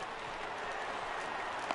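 Stadium crowd noise from the MLB The Show 19 baseball video game, a steady broad roar of cheering and applause sustained throughout the short stretch at a moderate level.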